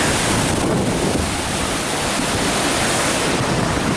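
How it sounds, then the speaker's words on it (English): Steady broadband rush of a waterfall pouring down a mossy green slope on Mount Rainier's Wonderland Trail, loud and continuous with no voices. "Beautiful waterfall coming down here."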